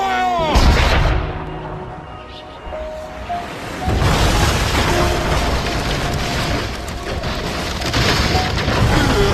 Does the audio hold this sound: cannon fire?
yes